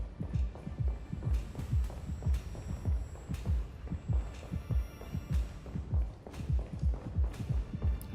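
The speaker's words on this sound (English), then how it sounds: "I don't like this heartbeat thing that they're doing." A heartbeat sound effect in the video game Honkai Star Rail, with a steady run of deep, double-thumping beats pulsing loudly over a low hum and scattered clicks.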